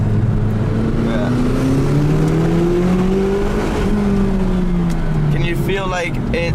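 A McLaren 570GT accelerates hard up a smooth asphalt volcano road, its engine note climbing in a steady rising drone heard from inside the cabin, with people talking over it.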